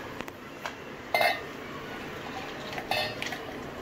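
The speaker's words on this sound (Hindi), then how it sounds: "कढ़ी को अभी मैं निकाल लेती हूँ छोटे बर्तन में।" Kadhi ladled from a large cooking pot into a smaller vessel in a home kitchen: two brief metallic clinks of utensil against pot, the rest quiet with faint room noise and no talk.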